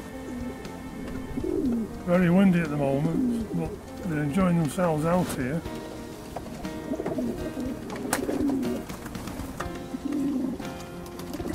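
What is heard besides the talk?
pigeons cooing in an aviary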